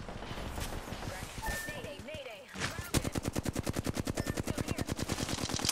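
Rapid automatic gunfire in a video game shooter, a long, steady burst of evenly spaced shots following a stretch of mixed game noise and a spoken voice.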